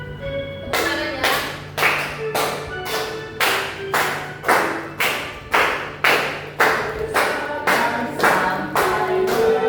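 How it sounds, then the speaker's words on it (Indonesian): Schoolchildren in an Indonesian elementary classroom clap their hands together in loud, unison claps, a steady rhythmic series of about fifteen sharp beats over a faint background hum. "Tepuk tangan ya."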